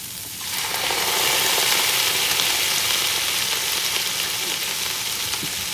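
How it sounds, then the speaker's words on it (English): Red wine poured into a hot pan of zucchini and vegetables deglazes it with a loud, steady sizzle that swells after the first half second and holds as a dense hiss throughout, with light stirring underneath. "this is when we're going to add that red wine just to deglaze the bottom of the pan"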